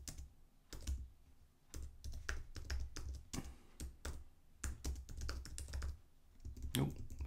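Quick irregular key clicks from typing on a computer keyboard come in close, uneven bursts with short pauses, while a voice talks quietly in places.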